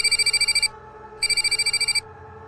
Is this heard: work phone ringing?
yes